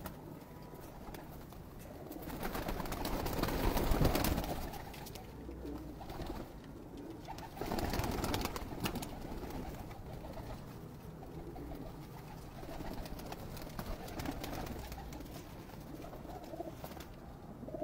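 Pigeons coo in low, repeated murmurs against steady background noise, with a louder stretch of activity partway through.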